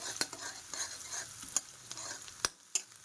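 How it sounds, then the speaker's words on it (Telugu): Sliced onions with a pinch of turmeric frying in a pan for idli upma, a soft sizzle under repeated sharp scrapes and clinks of a spoon stirring against the pan. "ఉల్లిపాయలు మరీ వేగినా కూడా బాగోదు చూశారు కదా సో ఈ మాత్రం వేగితే చాలు"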